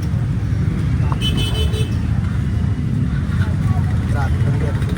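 Road traffic where people stand waiting on the roadside: a steady, dense rumble of car engines fills the whole span, and a short horn toot sounds early on. Faint voices are mixed into the noise.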